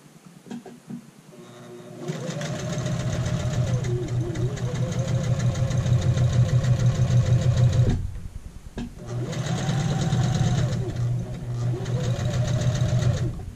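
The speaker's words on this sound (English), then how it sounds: "we're going to start with a stay stitch in the neckline that is 1/8 of an inch away" A sewing machine runs a stay stitch along the neckline of a child's shirt in two long, steady, close runs of rapid mechanical whirring, with a brief pause between them.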